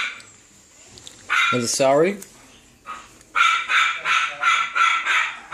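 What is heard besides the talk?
dogs barking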